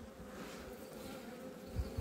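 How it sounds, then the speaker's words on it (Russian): Honeybees buzz steadily at a beehive in January, where frames of fresh honey have been set in; the hum is continuous and close, swelling slightly near the end. "Вот пчелы."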